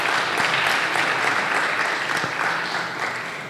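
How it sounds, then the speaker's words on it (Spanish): A church congregation's applause fills the room, a dense, steady wash of many hands clapping that fades slightly toward the end, with no voices over it. "Déle ese aplauso al Señor con todo su corazón."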